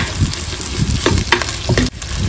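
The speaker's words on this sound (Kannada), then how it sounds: "ಈಗ ಈರುಳ್ಳಿ ಹಾಕಿ ಇದನ್ನು ಚೆನ್ನಾಗಿ ಫ್ರೈ ಮಾಡಬೇಕು." Onions frying in hot oil in a pan, with a steady sizzle and several stirring scrapes, close and fairly loud throughout.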